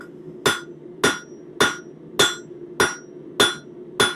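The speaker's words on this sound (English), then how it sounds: "that is one of the things that this cross peen hammer excels at" A cross peen hammer strikes metal seven times while forging, in a steady, even rhythm, each blow a sharp ringing clang over a low background hum.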